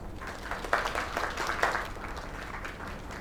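Applause in the Lake video game: a small, fairly distant crowd claps for about three seconds, loose and uneven with a few sharper claps standing out, and no one talks.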